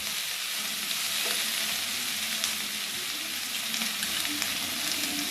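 Capsicum sautéing over low heat in a pan while wheat balls are made, a steady close sizzle and frying hiss with occasional light stirring scrapes and no voices.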